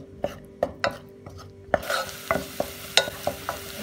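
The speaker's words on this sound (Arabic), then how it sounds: "أول شي بحط زيت نباتي بالطنجرة، كمان بحط البصلة وبقليهم على الغاز" Onion frying in vegetable oil in a pot on a gas stove, with a steady sizzle under repeated sharp scrapes and taps of a utensil stirring, close and clear.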